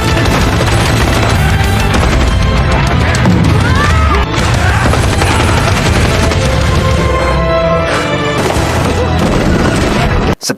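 A Gatling gun fires in a dense, loud, continuous burst during an action-film shootout, with crashes and booms layered over it, filling the scene with no break.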